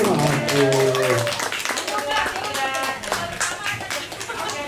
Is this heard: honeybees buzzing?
no